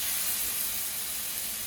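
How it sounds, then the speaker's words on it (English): Banana french toast frying in a pan, a steady close sizzle and hiss, loud and unbroken for a short stretch with no talk. "So you're gonna just go ahead and let that get a nice little fry in."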